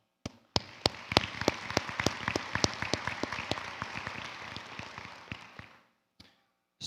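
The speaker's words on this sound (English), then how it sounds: "please give yourselves another well-deserved round of applause" A nursing pinning ceremony audience applauds the graduates, beginning with a few sharp, distinct claps that swell into steady, fairly close clapping, then fade out with a couple of stray claps at the end.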